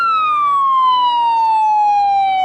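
A police car siren in an MTA driving video game wails loud and close as one slow, continuous tone that glides gradually downward in pitch, with no speech over it.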